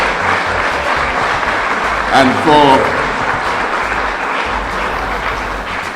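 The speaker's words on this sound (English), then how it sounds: "give a round of applause for yourselves" Steady applause from a church congregation at an appreciation service in Tabernacle, a dense wash of clapping sustained throughout, with a voice speaking briefly over it partway through.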